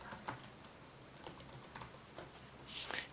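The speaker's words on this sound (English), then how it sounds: "we're going to type in weight" Quiet keystrokes on a computer keyboard while entering spreadsheet cell labels, a loose series of soft taps with a slightly louder burst of clicks near the end, no voices.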